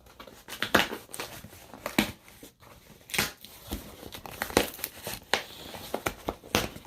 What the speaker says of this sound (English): So let's open this box right here. So we're just gonna cut that open.